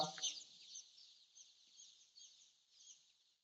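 A faint, continuous chorus of high-pitched chick peeping fills a brooding shed under heat lamps, with a brief low voice at the very start.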